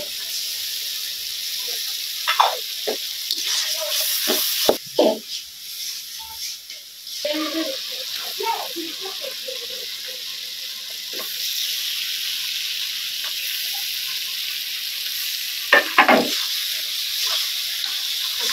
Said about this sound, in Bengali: মশলাটা কষাই নিতেছি, পেঁয়াজ বাটা আর আদা বাটাটা দিয়ে দিতেছি।